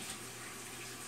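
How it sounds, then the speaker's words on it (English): Water runs from a kitchen tap for hand washing, a soft, steady hiss that stays faint and even throughout the brief moment, with no speech. "I'm gonna have to wash my hands now."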